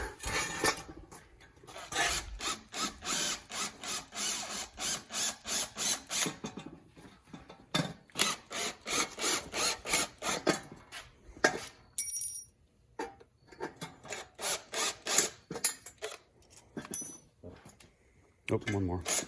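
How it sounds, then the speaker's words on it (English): A drill chews out three rivets holding a heat shield on a Chevrolet Monza Spyder during an LS engine swap, in repeated rhythmic grinding, rattling bursts up close, with some talk mixed in. "We're going to drill them out."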